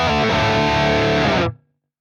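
Heavily distorted electric guitar through an Archetype Petrucci X amp plays a dense, sustained riff alone at close range, then cuts off abruptly near the end into silence.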